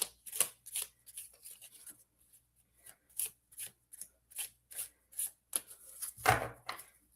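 A deck of reading cards is shuffled by hand in a quick, soft run of riffling and rubbing bursts, close and fairly quiet, with a louder brush near the end.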